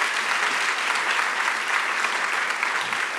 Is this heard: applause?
yes